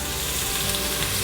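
Onion, celery, carrots and crushed garlic sizzle in a pan as the base for a mixed mushroom risotto, making a steady close frying hiss with no talking.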